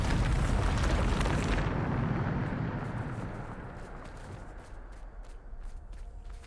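A Bombarda explosion spell goes off in Hogwarts Legacy, with a deep, loud rumbling blast right at the start that slowly fades over several seconds into a low decaying roar and faint scattered debris.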